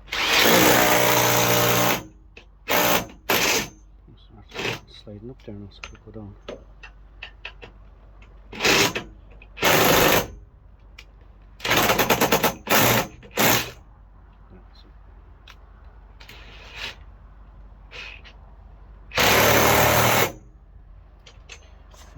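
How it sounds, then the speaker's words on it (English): Several loud, harsh bursts of a hammer drill, each a few seconds long, separated by quiet gaps with brief speech in between. "This is hammer drill."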